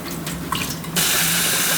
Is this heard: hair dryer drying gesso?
no